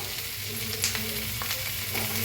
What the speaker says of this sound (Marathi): टमाटोला मिक्स करून भाजून घेऊया